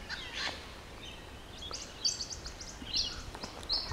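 A small bird in the Australian bush gives a few thin, high chirps and short calls, fairly faint over quiet outdoor background, with no talking.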